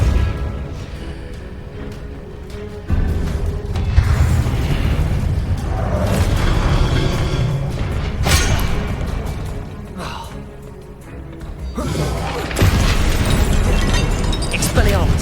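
Spell explosions in Hogwarts Legacy combat: repeated booming blasts and bursts from Depulso and other spells, loud and layered, with heavy rumbles, sharp crashes and a voice shouting incantations between them.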